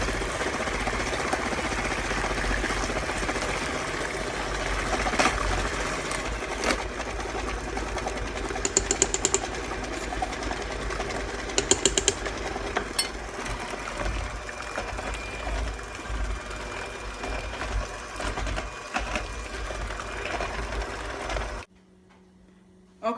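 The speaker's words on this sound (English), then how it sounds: "I'll be blending up the cornbread to add to the pan" A blender runs continuously, whirring steadily as it blends cornbread for dressing, with brief rattling bursts, before cutting off near the end.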